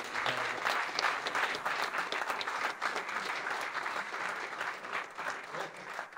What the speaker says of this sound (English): Before everyone leaves, can you just give one more round of applause to Damien?